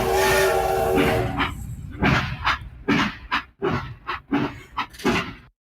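A train lets out a steam whistle followed by a run of sharp, rhythmic hissing puffs of steam, loud and close, fading to silence at the end.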